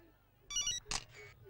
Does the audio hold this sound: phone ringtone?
yes